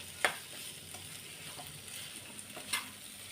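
Tamarind frying in a pan gives a soft, continuous sizzle. Two sharp clinks from a stirring spoon stand out, one near the start and one near the end. No one speaks.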